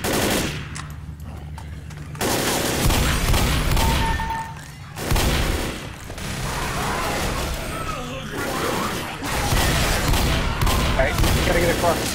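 Video game gunfire roars in dense, sustained bursts of automatic fire and booming shots, loud and close, with brief lulls between volleys and a voice calling out over the din.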